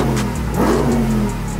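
A 2024 Ram 1500 TRX pickup truck engine revs up, its pitch rising in a strong sweep and then settling back to a steady idle rumble, loud and close with no talking.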